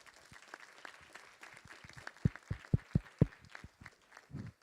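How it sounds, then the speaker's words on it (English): Audience applause welcoming a group of panelists and moderators onto a hall stage, a scattered patter of claps with a few loud, close individual claps standing out near the middle before thinning out. "please give a round of applause and welcome our esteemed group of panelists"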